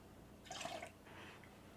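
Water is poured into a mixer bowl for dinner roll dough, a short, faint splashing trickle that lasts under a second before fading into a soft, quiet pour.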